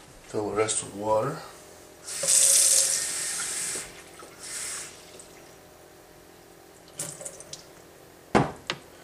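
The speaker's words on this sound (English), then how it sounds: "Fill the rest with water." Tap water runs into jars for pickled conch, a steady hiss of filling for a couple of seconds, followed by clinks and a brief second burst, with someone talking before it.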